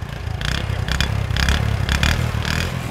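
A used 70cc motorbike, a 2013 model with Faisalabad registration, runs steadily close by with a low, even engine rumble and recurring rattly, clattering bursts.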